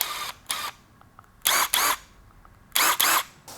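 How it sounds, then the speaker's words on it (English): A Bosch Freak cordless impact driver runs in short bursts: one brief pair of whirring pulses, then two longer paired runs, separated by quiet gaps with no talk. "and then a hammer drill mode or an impact driver mode."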